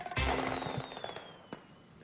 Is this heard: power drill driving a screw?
no